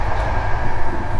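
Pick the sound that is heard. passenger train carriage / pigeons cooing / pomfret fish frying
passenger train carriage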